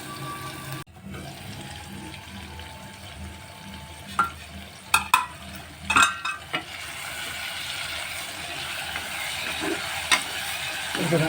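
Potatoes for a spinach and potato bhaji cook in a pan, with a soft sizzle under a few sharp clanks and scrapes from stirring and a lid being handled.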